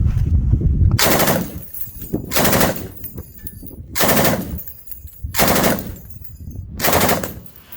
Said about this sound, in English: by far my favorite of the light machine guns was the PKM